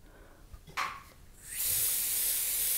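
An aerosol glue spray hisses close up onto a basse taille enamel piece, starting with a short burst and then settling into a long, steady, loud hiss.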